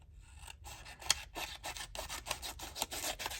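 Scissors trimming a paper glassine envelope by hand make soft rasping cuts, several short snips and rubs in an uneven rhythm, close and fairly quiet with no talking.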